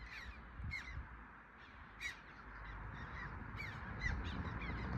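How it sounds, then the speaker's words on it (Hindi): Several yellow-billed corvids calling from overhead beside a mountain road near Rohtang Pass, a series of harsh, scattered caws rising over a constant low rumble of wind and traffic. "शायद रेवन बोलते इनको।"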